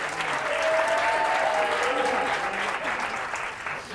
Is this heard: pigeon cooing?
no